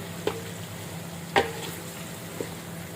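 Mango pickle with its peel, made with salt, turmeric, chili and whole garam masala in oil, stirred with a wooden spatula in a pan: faint sizzling under a few soft scraping clicks, quiet and close.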